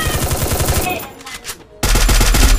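Rapid bursts of automatic gunfire from the Free Fire mobile shooter game, loud and close, stopping briefly and then resuming in a hard, sustained volley.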